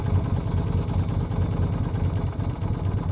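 A Yamaha Virago XV250 motorcycle running pod filters struggles at idle, its steady, loud, low, rough engine rumble filling the whole stretch with no talking.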